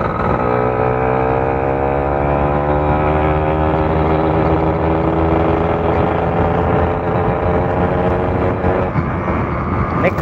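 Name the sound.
motorcycle engine revving with tuned carburetor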